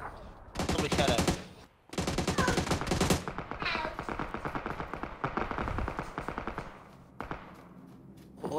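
Rapid automatic gunfire in PUBG, loud bursts of shots in quick succession stretching across most of the stretch, with a brief pause and a final few shots near the end.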